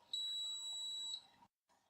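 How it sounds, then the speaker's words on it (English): A single high, piercing electronic beep from a lab test timer signals the end of a canine progesterone test reaction, holding steady for about a second, fairly faint, followed by a brief quiet tail. "The end of the marker reaction is announced by beeping sounds"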